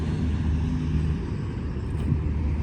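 A car driving along a road, heard as a steady low rumbling engine and road noise close by, continuous and unbroken, with no voices.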